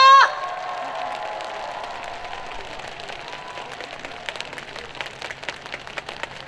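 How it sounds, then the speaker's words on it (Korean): Concert audience at an open-air celebration concert applauding and cheering, a dense steady wash of clapping with whoops and shouts that starts loud and stays fairly constant. "여러분 많은 박수와 함성 부탁드립니다"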